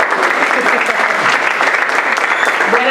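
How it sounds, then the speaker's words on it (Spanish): An audience at an afro-Colombian cultural event applauds loudly and steadily, a dense wash of many hands clapping that holds at full strength for the whole stretch. "Un fuerte aplauso para ella, por favor."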